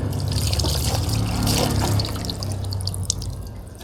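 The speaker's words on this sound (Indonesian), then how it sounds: "Nah sekarang kita siramkan." Water poured over a baby civet during its bath: a steady, close splashing stream runs throughout, easing slightly toward the end, with a small drip or knock near the finish.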